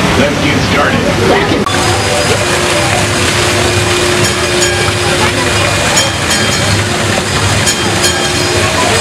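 Train ride at the Santa Cruz Beach Boardwalk amusement park, a continuous rumbling and rattling of the moving cars with a steady tone, loud and close, with crowd noise mixed in.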